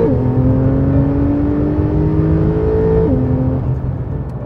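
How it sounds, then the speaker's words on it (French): A 2015 Porsche 911 Carrera S with a biturbo flat-six engine accelerates hard, its loud rising engine note climbing through the revs, with a gear change near the end before the sound eases off. "On prend 7500 tours sans que le flat 6 biturbo ne s'essouffle."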